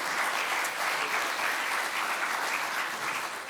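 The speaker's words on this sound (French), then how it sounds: "On peut les applaudir" Steady audience applause fills a conference hall at an industry and energy sovereignty forum, a dense, even wash of many hands clapping without a break and no voices over it.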